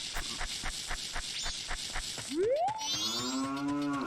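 A cow moos twice, its call rising and then holding, over a steady rhythmic ticking background in a scene from a Zelda Ocarina of Time and Majora's Mask randomizer game.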